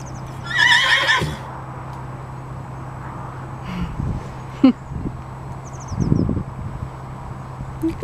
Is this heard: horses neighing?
yes